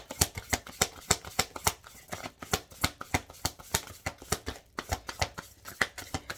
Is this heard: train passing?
no